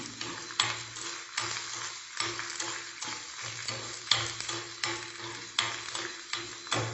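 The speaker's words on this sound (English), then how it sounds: "For the rest of it, that is the buttermilk stew, I am adding red chilli and methi seeds, fenugreek seeds." Red chilli and fenugreek seeds frying in tempering oil for a South Indian buttermilk stew, a close crackling sizzle broken by repeated clinks and scrapes of a spoon stirring the pan, no talking.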